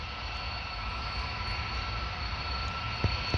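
Airliner jet engines at Paris Orly airport give a steady, broad roar with a low rumble, continuous and moderately distant, a Boeing 787 taking off on runway 08.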